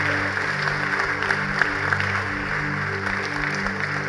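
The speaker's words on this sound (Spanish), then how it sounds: "Dele ese aplauso al Rey de Reyes" Applause from a church congregation during a worship service, steady and broad, mixed with sustained organ or keyboard tones throughout.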